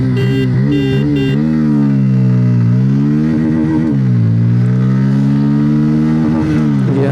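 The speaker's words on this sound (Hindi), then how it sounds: "अब एक्सेलरेशन टेस्ट भी करके देख लेते हैं। ये मैंने गाड़ी को अभी फर्स्ट गियर पे डाल दिया है।" A Bajaj Pulsar 160 motorcycle accelerates hard in first gear from a standstill toward 60, its loud, close engine note climbing and dipping through repeated revving surges without any talking.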